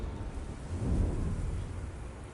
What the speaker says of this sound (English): He just roars lightning.